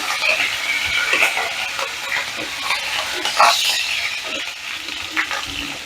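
Curry leaves and mustard seeds splutter and fry in hot oil, a steady close sizzle with scattered sharp pops and crackles throughout, no voices.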